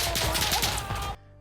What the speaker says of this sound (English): you get to hear the crack of the bullet breaking the sound barrier as they whiz past